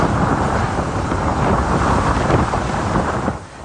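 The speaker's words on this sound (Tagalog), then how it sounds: "Ramdam sa mga bidyong kuha kahapon ang hagupit ng hangin sa Basco" Strong, roaring typhoon wind in Basco, Batanes buffets the microphone continuously, with a broad rushing blast that holds steady and then eases slightly near the end.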